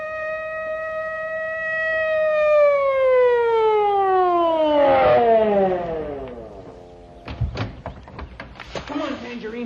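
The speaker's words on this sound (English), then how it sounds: "Here comes a police car." Police car siren in a radio drama, a loud wailing tone that slides down in pitch as the car arrives, then stops, followed by door thuds and clunks nearby.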